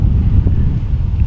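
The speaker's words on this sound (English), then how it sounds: "Wind's blowing today, you can tell." Strong wind buffets the microphone over open fields seen from a hunting stand, a loud, constant low rumble with no pauses.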